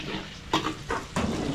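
Onions frying in a pan, a steady sizzle broken by three scraping stirs of a spatula, close and moderately loud, no talk.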